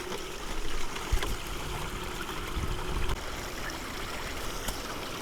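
Muddy water runs through a Gold Cube gold recovery system, a soft, steady trickle and flow with a few small splashes, fairly quiet and close.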